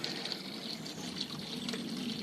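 A small garden water feature trickles softly and continuously, a faint, steady splash heard from nearby.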